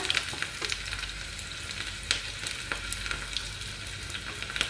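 Dried red chillies and finely chopped shallots sizzle in hot oil for a Kerala ginger curry, a steady close frying hiss broken by sharp crackles and pops scattered throughout, with no voices.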